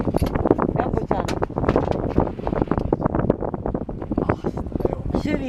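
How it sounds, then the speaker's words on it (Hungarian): Strong wind gusting and buffeting steadily aboard a small sailboat out on the water, with people talking throughout over the constant rushing roar. "Süvít a szél."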